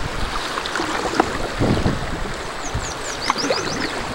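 A dugout canoe pushes through river rapids, with steady rushing water and wind buffeting the microphone, a few sharper splashes and knocks from paddling breaking through the wash.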